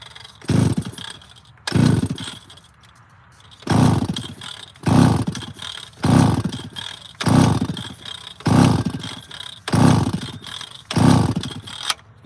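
A chainsaw engine revs hard in a steady rhythm, with about eight loud bursts of throttle separated by brief drops back toward idle. The saw is close and loud, and no one speaks.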